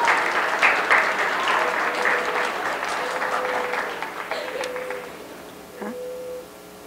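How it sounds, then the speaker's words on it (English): Audience at a school district board of trustees meeting applauding middle school competition winners, a loud, sustained wash of clapping from a roomful of people that gradually fades away, with a few voices briefly audible as it dies down. "Let's give our middle school Destination Imagination winners a big round of applause."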